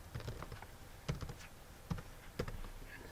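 A PowerShell command is typed on a computer keyboard, quiet irregular key taps with a few sharper, louder presses spaced apart, no talking.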